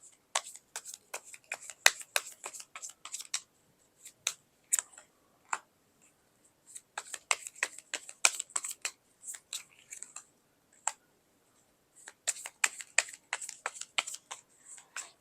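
Tarot cards are handled and drawn in quiet, close sharp clicks and snaps of card stock, arriving in irregular bursts with pauses.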